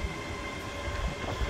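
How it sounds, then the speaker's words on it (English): A Class 385 train rumbles steadily nearby at Edinburgh Park station with a low, continuous roar and faint rail clatter as it draws closer, no voices heard. "we've got a 385 coming in"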